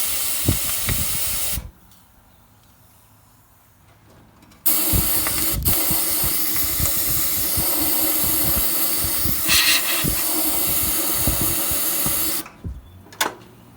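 A loud, broadband hiss of spray from a nozzle on a VW Bus under restoration runs in long bursts, stopping for a few seconds in between, with clunks and rattles underneath.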